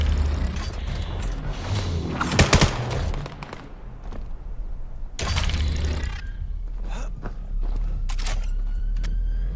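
Rapid bursts of gunfire from a VR shooter match, crackling volleys and single shots spread across the clip with a dense flurry in the middle and more scattered shots later, over steady game ambience with no talk.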